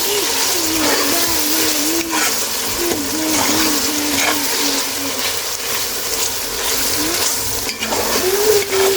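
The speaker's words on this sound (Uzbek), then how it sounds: "Endi yana bir pas qovurib olamiz." Onions and meat with tomato frying in a pan for Uyghur lagman, giving a steady, close sizzling hiss that continues without a break for the whole stretch.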